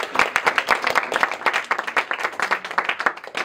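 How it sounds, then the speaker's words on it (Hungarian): An audience claps for the organisers at a Hungarian stage event, a lively burst of many hands with crisp individual claps standing out, sustained at an even, moderately loud level with no talking. "nekik is nagyon nagy tapsot"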